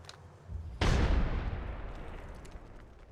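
A frag grenade detonating in a video game: one sudden deep boom, faint beforehand, followed by a long rumbling decay over a couple of seconds, no talking.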